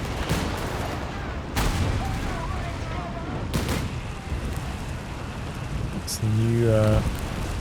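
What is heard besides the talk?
Company of Heroes 3 video game flame attack explosions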